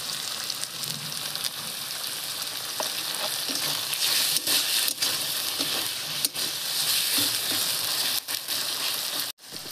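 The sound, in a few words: tomato frying with ginger, garlic and onion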